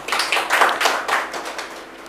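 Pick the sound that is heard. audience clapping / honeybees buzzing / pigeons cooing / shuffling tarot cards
audience clapping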